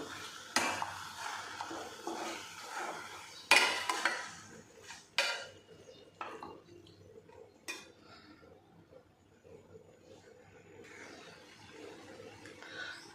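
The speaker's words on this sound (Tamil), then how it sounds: "கிளறி விட்டுக்கலாம்" A spoon stirs chicken with chilli powder, coriander powder and garam masala in a cooking pan, giving intermittent scraping clinks and knocks against the metal over a faint sizzle, close and fairly quiet.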